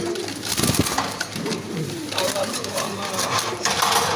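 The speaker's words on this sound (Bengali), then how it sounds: "এক জোড়া রেড চেকার কবুতর খুবই সুন্দর" Pigeons coo softly at a busy pigeon market where red checker pairs and other breeds are sold, their low calls mixed with wing flutters and people talking nearby.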